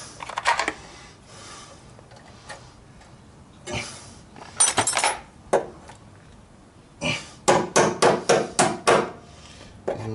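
Metal-on-metal hammering as a rear brake clip on a Nissan Skyline R33 GTST is driven in with hammer pliers: a scattered few blows, then a rapid close series of about six sharp strikes, loud and near.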